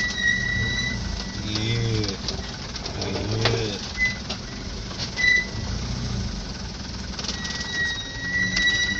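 Pigeons or doves cooing in repeated low, throaty phrases, moderately close, over a steady background hum of an engine and faint high tones, with no talking.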